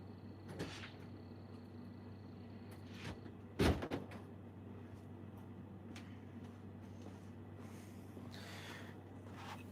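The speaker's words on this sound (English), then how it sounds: "Let me go let him in the door." A house door is opened to let a dog in from outside in Mississippi: one brief knock and rattle of the door, then faint scuffs and shuffling against a steady low hum, with no voices.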